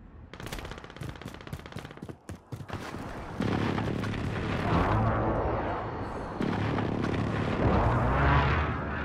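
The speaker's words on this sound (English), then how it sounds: "Enemy precision airstrike" Rapid clattering gunfire gives way to heavy, sustained rolling blasts from an enemy precision airstrike in Call of Duty: Modern Warfare, loud and continuous as the explosions pile up.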